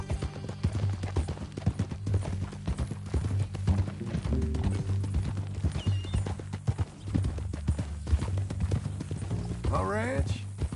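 Horse hooves clip-clopping in Red Dead Redemption 2, a steady rhythmic trot close by that carries through the whole stretch while characters talk and a horse whinnies near the end.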